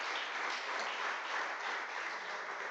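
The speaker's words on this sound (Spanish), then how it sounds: "Démosle un fuerte aplauso al Señor en esta mañana" A church congregation applauding together at a Sunday service, a dense, steady wash of clapping from many hands that holds evenly throughout without breaks.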